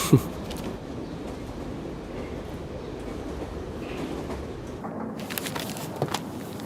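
Steady rumble and rattle of a moving train heard from inside a carriage, continuous and fairly loud, with a few sharp clacks near the end.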